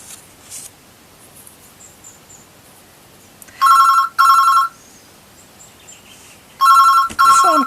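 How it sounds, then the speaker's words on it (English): A telephone rings loud and close in two pairs of short electronic trills, each burst separated by a few seconds of quiet room tone. "Phone call."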